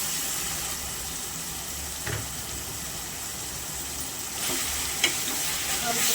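Chicken pieces sizzle and fry in a pan of cooked-down tomato masala, a steady close hiss with a couple of brief stirring knocks and clatters near the start and end.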